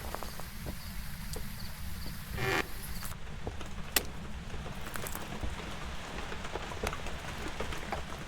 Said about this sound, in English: every time I hear that rain, I get scared